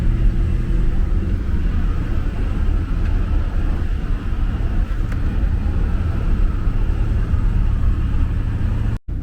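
A car climbing a rough mountain road toward Khustup in Armenia, its engine and tyres giving a steady, close, continuous low rumble throughout with no talk.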